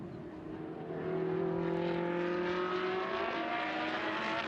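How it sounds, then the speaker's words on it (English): Race cars from the 2015 Trofeo Pirelli round at Paul Ricard drive to parc fermé after the race, a steady, fairly loud engine drone that swells after the first second and holds. "And the car's on their way to Parc Fermé right now."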